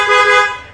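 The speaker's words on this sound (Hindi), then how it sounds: "एक हॉर्न ऐड किया जो हेला ब्रांड में रहता है" A Hella brand horn fitted to a Toyota Innova Hycross gives one short, loud, bright blast that cuts off and fades quickly, heard close up and alone.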